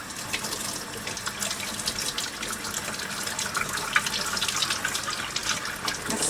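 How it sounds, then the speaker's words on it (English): Warm tap water runs steadily into a container while homemade antibacterial hand soap is being made, a continuous splashing fill with no talking. "let's go ahead and fill this up with water"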